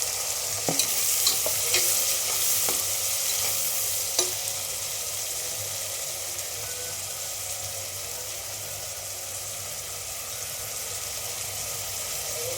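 Onion and tomato fry in a pan with a constant loud sizzle, and a spoon scrapes and clinks through them in a few sharp stirring strokes early on, then the frying carries on alone.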